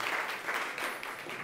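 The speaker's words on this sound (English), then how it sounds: "can we have a round of applause, please?" Conference attendees at Nudgestock 2014 give a round of applause, a brief, steady burst of many hands clapping together at even loudness throughout.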